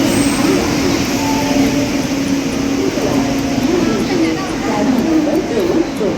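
Garib Rath train pulling in at platform 7 of Panvel station, a steady rumble and rolling noise of carriages that fills the platform, with people talking nearby.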